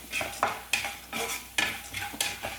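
Roasted split chickpeas fry in a pan for a poha chivda mixture, with repeated scraping stirs every half second or so over a soft steady sizzle, close and alone.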